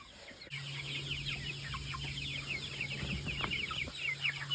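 Chickens clucking and chattering steadily throughout, a dense flock of young chicks' short calls close by, with a low steady hum running underneath most of the time.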